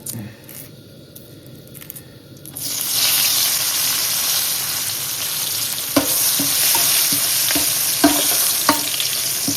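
Turmeric and curry leaves hit hot oil for a tempering and burst into loud, steady sizzling after a quieter start, with a few scraping knocks of a spoon against the pan.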